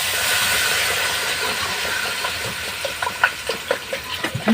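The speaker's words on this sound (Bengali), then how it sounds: "ওই জল দিয়ে দিচ্ছি।" Water poured into a hot pan of jiol fish curry: a loud, steady sizzling hiss that slowly eases, followed by scattered bubbling pops near the end, with no voices.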